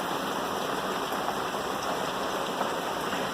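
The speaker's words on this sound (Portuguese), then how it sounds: "Olha a chuva aí." Steady rain pours down over a construction site in Guapimirim, a dense, even hiss of drops on surfaces and roof tiles that fills the clip without pause, with no voices.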